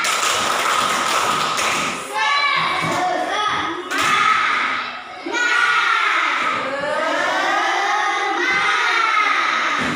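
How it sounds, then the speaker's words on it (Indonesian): Children in a classroom join a rhythmic spirit clap, sharp claps falling in quick patterns while young voices chant and shout loudly alongside. "Ayo kita sama-sama tepuk semangat."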